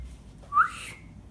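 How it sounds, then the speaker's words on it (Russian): A person gives a single short, bright whistle that rises quickly and fades, heard up close in a quiet room. "А как я так свистнул?"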